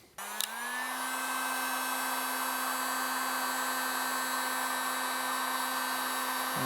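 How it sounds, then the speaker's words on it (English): Electric heat gun switched on to blow hot air onto heat shrink tubing over a crimped wire connector: a short click, then a steady whining fan blow with a constant pitched hum, moderately faint and alone. "you just stick a piece of that over it, hit it with your heat gun"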